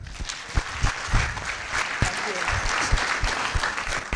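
A crowd at a university freshers orientation day applauds a speaker, dense, loud clapping that holds steady throughout, with a few voices mixed in.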